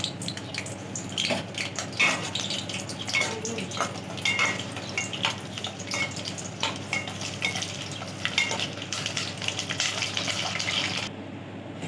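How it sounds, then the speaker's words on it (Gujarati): Green chillies frying in hot oil in a pan, a steady close sizzle with scattered crackles and light utensil scrapes and clinks throughout. "તેલ આવી ગયું છે તો પહેલાં મરચાં તળી લઈશું આપણે."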